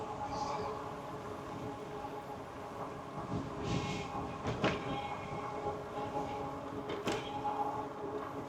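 A train rolls past in an industrial area of warehouses, a steady rumble with intermittent clacks and a few sharp metallic bangs, heard from some distance with continuous background noise.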